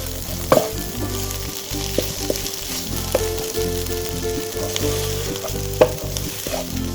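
Chicken and capsicum stuffing frying on a low flame while being stirred, a continuous close sizzle with a steady hum beneath and sharp intermittent clicks and scrapes of a utensil against the pan.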